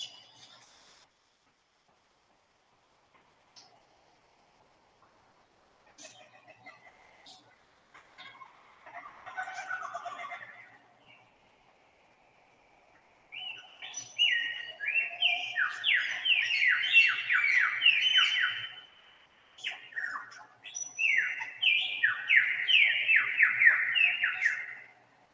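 A lyrebird, heard at a zoo, vocalizes in a complex mimicking sequence: scattered soft calls and chatter give way to loud, rapid, repeated warbling and whistled phrases in long bursts, close and clear.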